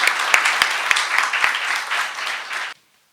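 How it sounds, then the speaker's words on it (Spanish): An audience at an autumn thesis workshop applauds, a dense burst of close and distant clapping with a few sharp near claps, then it stops abruptly. "les pido un aplauso para todos y que sea un éxito"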